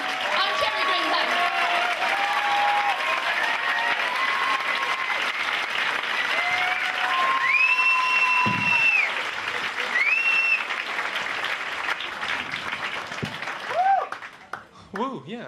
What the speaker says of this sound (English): Everyone else seems to be clapping and going, woo, I'm just clapping.